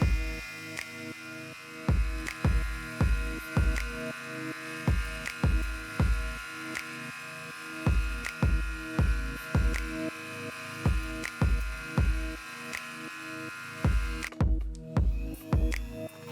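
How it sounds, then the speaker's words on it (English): A Dremel rotary tool with a polishing bit and compound buffs a copper ring, a steady motorised hum with regular rhythmic pulses repeating throughout, fairly close and continuous. "I used my Dremel with a polishing bit and some compound to clean up the copper."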